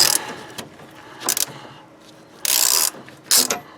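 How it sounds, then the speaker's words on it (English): A 15mm socket on a ratchet backs out the fuel filter fitting on a 1996–2002 Toyota 4Runner, giving several short bursts of rapid clicking with quiet gaps between, close up and without talk. "So I got a socket. I think this is a 15mm socket, and I'm just going to back it out."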